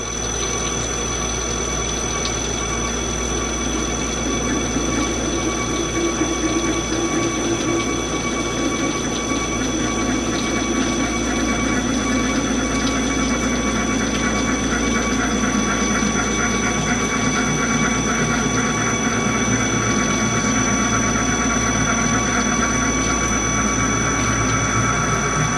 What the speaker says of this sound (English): pointed diamond knurls using a little machine shop knurler off my mini lathe